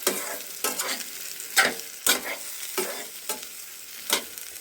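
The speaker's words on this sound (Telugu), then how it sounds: "ఇప్పుడు మంచిగా కలపండి ఒక రెండు నిమిషాలు" Tomato curry with fried onions is stirred in a hot pan: regular scraping strokes roughly every half second over a soft background sizzle, close and fairly loud.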